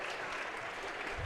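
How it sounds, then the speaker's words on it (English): Spectators in a gym clap steadily through a brief burst of applause at a high school wrestling meet between Evanston and Green River. "Round of applause from the Evanston crowd."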